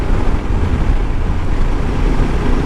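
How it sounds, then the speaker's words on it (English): Strong wind gusts blowing across the microphone during a road trip ride, a loud, continuous broadband roar with no break. "It's windy out"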